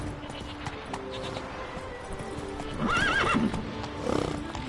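Galloping horse hooves from a PS4 video game, a steady clip-clop rhythm that runs throughout, with loud neighing whinnies breaking in near the middle and again toward the end.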